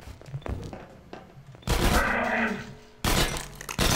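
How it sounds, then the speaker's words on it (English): A pistol in the Half-Life 2 Episode 2 video game fires in quick loud bursts, broken by quieter gaps with mechanical clicks that fit a reload, all close and sharp. "Man, you're really fast with that fucking pistol."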